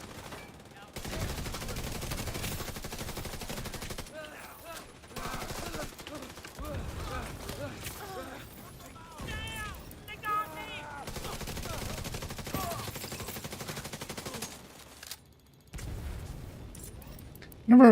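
Gunfire in a video game firefight against enemies, repeated bursts and single shots spread through the scene, moderately loud, with someone talking over much of it.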